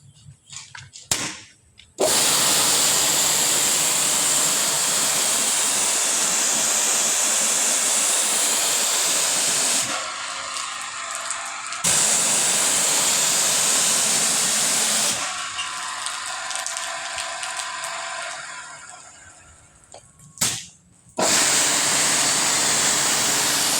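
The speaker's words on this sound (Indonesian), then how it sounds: "Sekarang kita akan pakai nozzle ya. Kita tes spraynya." A Jet Cleaner HPL 250/55 GD pressure washer sprays through a short gun nozzle, a loud steady hissing jet that cuts out briefly several times and restarts, with no talking.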